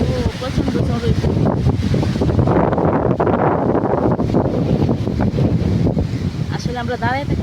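Loud, sustained wind from a sudden afternoon storm buffets the microphone, rising into a heavy roar midway, with voices briefly audible at the start and end.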